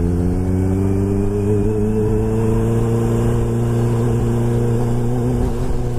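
A Kawasaki Ninja H2 motorcycle engine runs close by with a steady, loud, humming drone that holds a fairly even pitch throughout, and no voices are heard.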